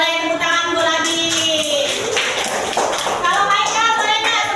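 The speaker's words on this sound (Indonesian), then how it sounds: "Oke, boleh tepuk tangan dulu lagi." A classroom of children claps hands in applause, a dense continuous patter lasting several seconds, loud and close, with kids' voices mixed in.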